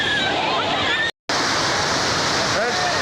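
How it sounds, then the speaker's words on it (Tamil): Water from an overflowing lake pours down in a steady, loud rushing roar that fills the clip, cut by a brief silence near the middle before resuming. "மேலேருந்து வந்து ஊற்றி அப்படியே பாருங்க கீழே ஊற்றிட்டு இருக்குது தண்ணி வந்து கீழே போகுது"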